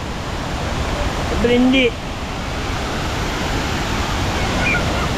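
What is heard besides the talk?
Kuang Si waterfall in Laos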